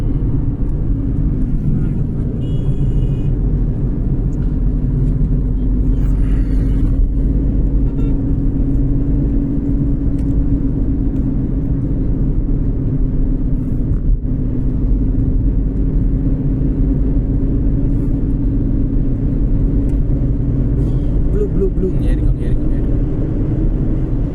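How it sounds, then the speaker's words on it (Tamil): Heavy highway traffic on an Indian road, heard as a steady, loud low rumble of engines and tyres that continues without a break, with people talking over it. "அன்எக்ஸ்பெக்டாக ஆனால் heavy traffic highway road driving பண்ண போகிறோம்"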